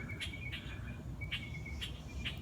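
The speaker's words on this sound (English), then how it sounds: "listen to these birds. They're going batshit." Bright, high bird chirps repeat in short bursts over a steady low background rumble, several calls spaced irregularly and moderately close.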